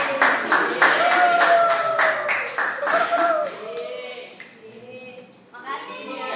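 Children in an Indonesian language class clap hands in a quick, fairly close burst, with young voices chattering over it. The clapping then fades into talk.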